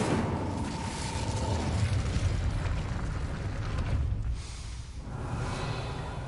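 Incendio fire spell cast in the video game Hogwarts Legacy, a loud roaring whoosh of flame with rumbling low bursts that swells and then dips briefly before resuming.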